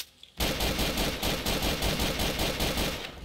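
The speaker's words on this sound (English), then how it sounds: "I'm getting shot at right now." Heavy, sustained automatic gunfire in Garry's Mod Trouble in Terrorist Town erupts suddenly after a brief quiet moment and continues as a loud, rapid, unbroken stream of shots close to the listener.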